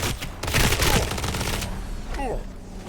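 Bursts of rapid gunfire from a new weapon in the video game Blood Reaver crackle close and loud in quick clusters, with a voice briefly heard.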